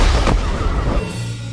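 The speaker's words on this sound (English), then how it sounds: "We are getting unconfirmed reports about a series of explosions along the city's seawall" Explosions booming in a city seawall scene from the TV series The Penguin: a dense, loud run of deep blasts and rumbling that fades to a steady low drone after about a second.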